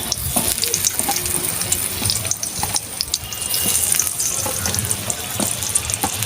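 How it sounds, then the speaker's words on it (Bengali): Pointed gourds (potol) dropped into hot oil sizzle with a steady, close hiss and scattered crackling pops throughout, a continuous frying sound with no talking. "আমি একসঙ্গেই সবকটা পটল ভেজে নেব।"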